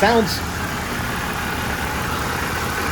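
A Mercedes car engine, from a crashed car, idles with a steady low rumble. A brief voice or squeal is heard at the start.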